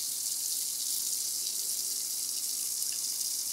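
Water runs steadily from a tap into an outdoor garden sink, a constant hissing flow with no breaks, fairly close and alone.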